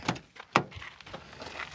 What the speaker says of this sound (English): I open my door here